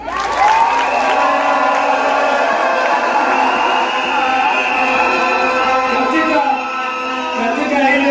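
Crowd at a Kiambu County political rally in Kenya breaking into sustained applause and cheering, loud and dense, with shouts over the clapping and a brief dip before it swells again.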